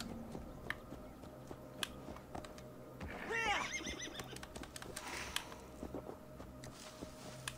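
A horse in the video game Assassin's Creed Valhalla gives one clear whinny partway through, over a quiet game ambience with faint clicks and scattered bird-like chirps.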